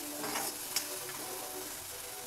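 Tomato and onion are sautéed in a pan for ridge gourd bharit, a quiet continuous frying sizzle with faint stirring and a single small click, no talking.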